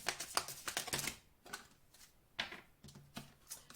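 Cards are drawn from a deck by hand, giving quick bursts of crisp, papery snaps and flicks at close range. The bursts are separated by short quiet gaps.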